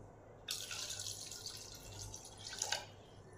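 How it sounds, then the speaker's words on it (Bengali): Peeled taro roots being washed in water, a soft running splash and trickle starting abruptly and continuing steadily, with a brief louder slosh near the end, close and fairly quiet. "কচুগুলোকে পরিষ্কার করে আগে ভালো করে ধুয়ে নিতে হবে"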